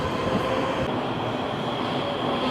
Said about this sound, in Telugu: వచ్చేసింది మన ట్రైన్